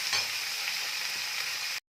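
Potato chunks and drumstick pieces sizzle steadily in a hot pan with light stirring movements, then the sound cuts off abruptly near the end; no talking.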